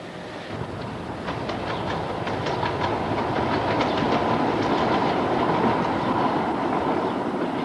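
A Tyne and Wear Metro commuter train rolls along its rails with a steady, loud rumble and a faint rhythmic clickety-clack of wheels over joints, constant from start to finish.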